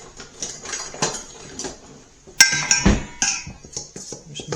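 Dry seasoning salt and wheat being stirred together in a bowl in a home kitchen: irregular scraping rustles and light clinks of utensil against bowl, with a couple of louder knocks midway.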